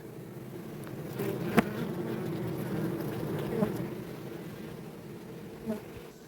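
Honeybees buzz steadily around an opened beehive during frame work on hive expansion, a continuous mid-close drone with a few brief louder passes of single bees near the microphone.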